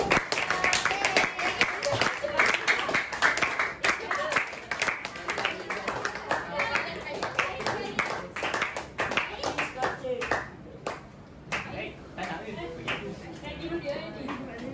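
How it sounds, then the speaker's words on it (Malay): A group claps together in sustained applause for several seconds, fading out toward the end, with voices mixed in. "Okey, bagi tepukan."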